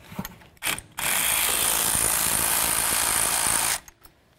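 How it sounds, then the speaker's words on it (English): A ratchet spins off a 14 millimeter strut nut on a 2010-2015 Kia Sorento front strut, a loud, rapid continuous buzzing of clicks lasting nearly three seconds after a couple of short preliminary clicks. "Now you're gonna remove your 14 millimeter nut."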